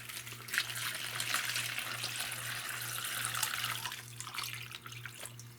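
Water pours steadily onto hardwood pellet bedding in a close, continuous splashing rush that holds for several seconds, with a faint low hum running underneath.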